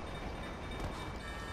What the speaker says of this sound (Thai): เฮ้ยรถไฟมา